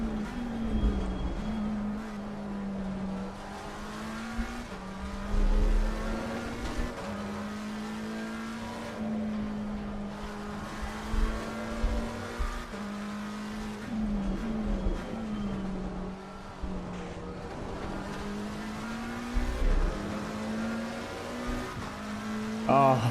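BMW race car engine in a Mini Enduro race, droning and rising in pitch through repeated gear changes, heard from inside the car with occasional talk over it.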